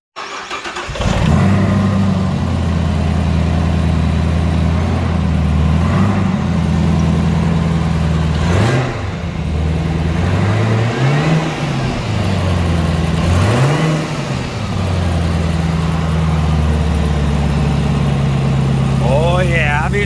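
A wrecked supercharged Camaro ZL1 V8 cranks, catches and settles into a loud, steady idle with a couple of brief throttle blips, close up and continuous; a voice talks briefly over the running engine.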